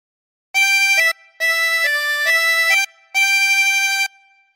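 A 24-hole tremolo harmonica plays a slow phrase of Jesus Loves Me, with three sustained, reedy blown and drawn chords separated by short breaths and a steady wavering tone, close and clear with no talking.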